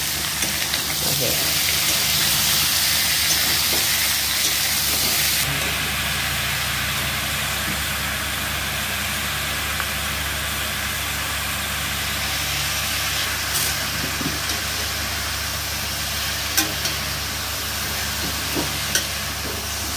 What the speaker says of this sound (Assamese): আমাৰ মাংস গ'ল কেৰাহীত আৰু এতিয়া ইয়াত ভাজি ল'ব লাগিব